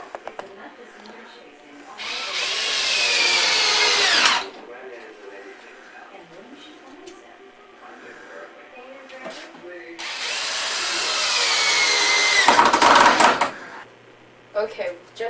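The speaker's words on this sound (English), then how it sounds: "I'm just putting the screws in now" Power drill driving screws into window framework for a wind tunnel, two long whining bursts a few seconds each with the pitch rising as the screws bite, with quiet handling noises between them.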